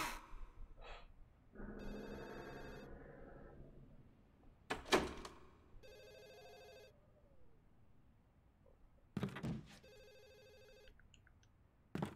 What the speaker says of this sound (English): We're just gonna listen to the phone ring forever.